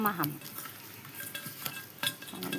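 Fish sautés in a little mustard oil in a pan for a fish curry, a soft close sizzle broken by scraping and clinking stirring strokes at an uneven rhythm.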